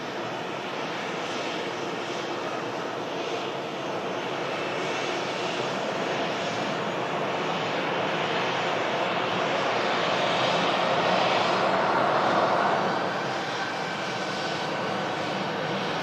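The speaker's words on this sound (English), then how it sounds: "Ryanair just arrived in from Dublin." A Ryanair airliner arriving at Manchester Airport from Dublin, its engines giving a steady broadband roar that swells slightly near the end, heard alone with no talk.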